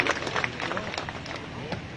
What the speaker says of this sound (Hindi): एक बार जोरदार तालियां आदरणीय बीएल रणवा सर के लिए।